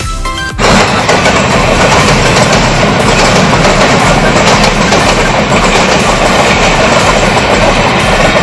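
A train rolling past through hilly countryside, loud and close, a continuous rumble with clattering wheels on rails and no talk.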